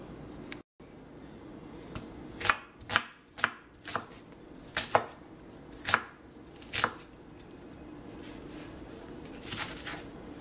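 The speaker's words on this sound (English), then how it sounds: "Now I'm going to cut my other piece of the onion into pieces" An onion is chopped into pieces with a knife on a cutting board for chipotle meatball soup: about nine crisp, separate strikes fall in an irregular rhythm, close and clear, with quiet gaps between them.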